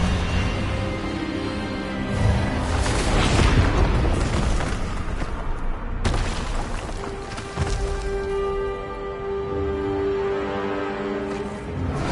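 The Expelliarmus disarming spell goes off in the game Hogwarts Legacy as a loud, dense blast that swells into a rumbling boom, then carries on as a sustained, crackling roar with a second surge partway through.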